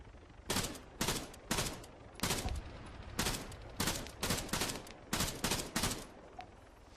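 Zafir machine gun in Arma 3 firing in short bursts from cover behind a downed tree, about a dozen sharp, evenly spaced volleys with brief pauses between them.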